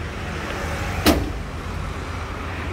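A single sharp thud of a Renault Twizy Urban 80 door swinging shut, close by, over a low steady background hum.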